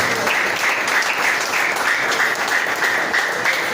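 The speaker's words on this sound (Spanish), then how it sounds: "Damos una fuerte ofrenda de palmas al Señor" A congregation at a church service applauds loudly and steadily, many hands clapping together in a sustained, even roar.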